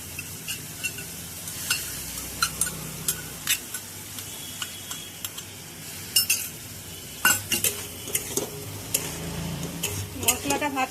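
Spice paste made with ground cashew and raisin frying in a pan for soya pulao, a soft continuous sizzle broken by frequent sharp scrapes and clinks of a spoon stirring against the metal.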